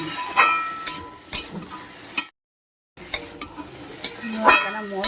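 A spoon stirs a potato and ridge gourd curry with chopped tomato in a pan. Intermittent metallic scrapes and clinks come close by, with a short silent gap in the middle.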